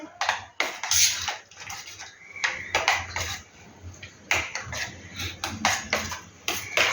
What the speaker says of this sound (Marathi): तर आता आपण हे सगळं मिक्स करून घेऊ व्यवस्थित